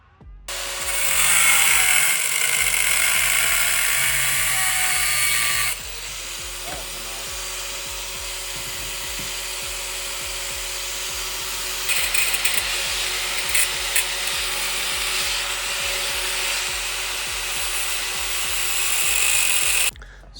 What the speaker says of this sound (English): So we are officially done cutting, and I just grinded down the Type S pump here.